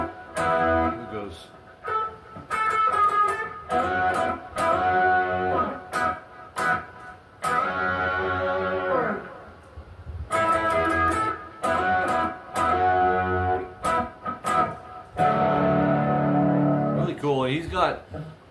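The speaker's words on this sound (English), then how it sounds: "He's got a lot of effects going on. There's reverb, delay, phase, those three for sure in there." Electric guitar drenched in reverb, delay and phaser, playing a live-style lead in steady, ringing phrases with sustained washy tails, fairly loud and continuous, with talk mixed in at points.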